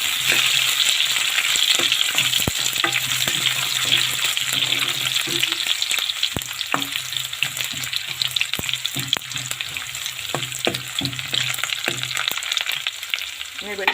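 Crushed ginger, garlic and onion sizzle steadily in a hot pan for beetroot pickle, a dense continuous frying hiss with occasional stirring clicks and a low hum underneath.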